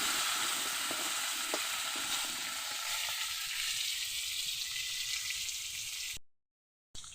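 Cut potatoes with whole cumin seeds fry in hot oil, giving a strong, steady sizzle that gradually softens before cutting off into brief silence near the end.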